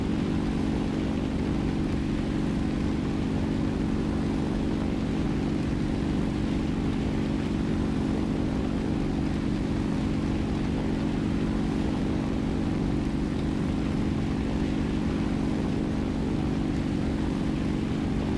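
Steady propeller engine drone of an Fw-190 A-1 fighter in a flight simulator game, a dense, unbroken roar that holds at an even level throughout with no voices.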